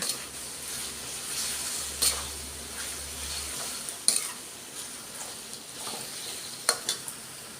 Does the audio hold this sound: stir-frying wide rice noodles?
yes